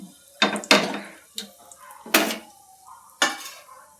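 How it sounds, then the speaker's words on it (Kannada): Whole spices, star anise, a cinnamon stick and cardamom, frying in a pan: several distinct metallic clanks and scrapes of a spoon against the pan, spaced apart, with a light sizzle between them. "ಸ್ಟಾರ್ ಮೊಗ್ಗು, ಒಂದು ಚಕ್ಕೆ ತೊಗೊಂಡಿದ್ದೀನಿ, ಏಲಕ್ಕಿ. ಇದಿಷ್ಟು ಸ್ವಲ್ಪ ಫ್ರೈ ಆಗಬೇಕು."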